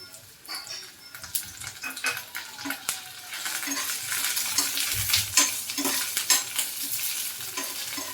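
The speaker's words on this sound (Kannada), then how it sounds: "ಸ್ವಲ್ಪ ಫ್ರೈ ಆದಮೇಲೆ ಇದಕ್ಕೆ ಹಸಿಮೆಣಸಿನ್ಕಾಯಿ ಮತ್ತು ಕರಿಬೇವು ಹಾಕ್ತಾಯಿದ್ದೀನಿ" Green chillies and curry leaves fry in a pan of oil for a Hyderabadi dhaba-style paneer gravy, with a crackling sizzle broken by repeated close scraping stirs of a spoon against the pan.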